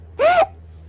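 A cartoon dinosaur gives a single loud, voiced hiccup lasting about a quarter second, a rising-then-falling squeak heard clearly on its own over a low background hum.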